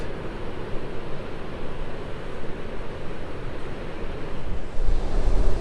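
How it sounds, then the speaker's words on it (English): Steady wind gusting on a blustery day by the sea, buffeting roar mixed with surf wash, constant and fairly loud with a stronger gust near the end and no voices. "And it is a windy day here"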